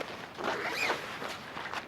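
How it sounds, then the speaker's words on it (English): A zipper on a pole-less tent slides open in one quick, close rasping pull over soft rustling. "where's the zippers on this?"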